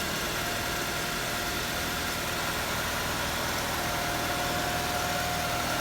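A 1997 Honda CR-V engine idles with a constant, slightly vibrating hum. It holds an even level from start to finish and plays alone, with no voices.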